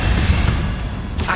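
Incendio fire spell cast in Hogwarts Legacy, a loud sustained blast of roaring, whooshing noise with a low boom near the start and a brighter swish toward the end.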